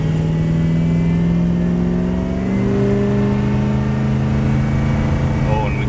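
A Ford engine runs steady and loud with its muffler cut off, giving a raw, throaty idle that rises briefly partway through, with no talk over it.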